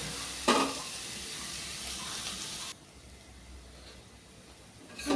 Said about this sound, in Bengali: উচ্ছেটা লাল করে ভাজা হয়ে গেছে